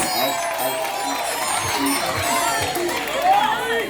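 Wedding guests cheer and clap for the newly married couple, a steady crowd roar with applause and babble throughout, one voice rising near the end.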